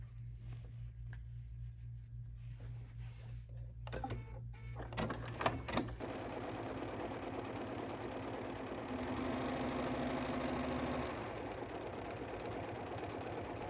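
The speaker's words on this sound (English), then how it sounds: "So now we're going to start stitching our placement for our different gingerbread men." Embroidery machine stitching a gingerbread-man placement outline on a mug rug, starting with faint hum and clicks, then a steady rapid mechanical chatter of the needle, close and fairly quiet with no talking.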